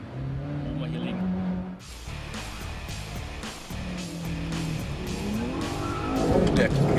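A Mitsubishi Lancer Evolution and a Subaru WRX race head to head, engines surging in and out under acceleration with sharp tire squeals, kicking in abruptly and growing louder toward the end.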